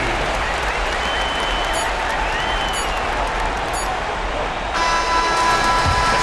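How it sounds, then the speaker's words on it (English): Home crowd at a basketball game applauding a victory, a dense, loud, steady wash of clapping and cheering from a large arena audience. "So the home crowd happy here as they get the victory"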